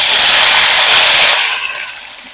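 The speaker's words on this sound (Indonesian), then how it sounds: "Nah kita goreng sambalnya." Chili sambal hits a hot pan and sizzles, a loud, broad frying hiss that holds steady and then gradually fades as the sputtering settles.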